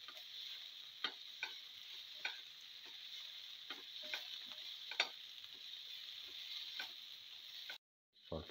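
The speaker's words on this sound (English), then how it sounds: "Saute and mix and crush all the ingredients to select." Tomato and cumin mixture sautéing in a pan, with a steady soft sizzle and scattered light scraping and tapping as it is stirred and crushed, fairly close, no talking.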